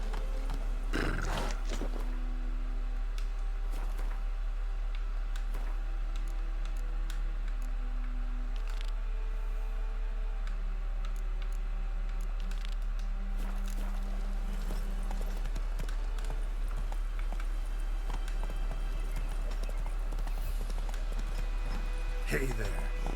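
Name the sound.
horse hooves and neighing in video game The Witcher 3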